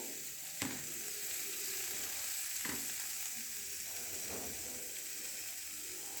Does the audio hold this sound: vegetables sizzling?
yes